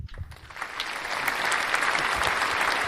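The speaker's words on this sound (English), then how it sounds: "Where we get applause to thank you." Studio audience applause at a live Chicago-area talk show, building from scattered claps into a dense, sustained ovation that holds loud and steady to the end.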